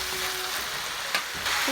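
Vegetables for Chinese fried rice fry in a pan with a loud, steady close-up hiss and one brief clatter partway through.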